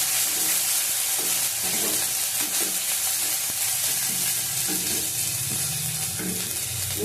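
Garlic paste fries and sizzles in a pan for a fish curry, with a steady close crackle and repeated scraping strokes of a stirring spoon throughout, no talking.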